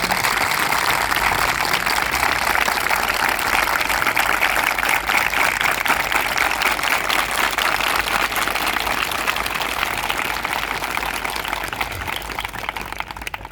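A crowd applauding at a gathering, dense sustained clapping at even loudness that tapers off toward the end, with no talking over it.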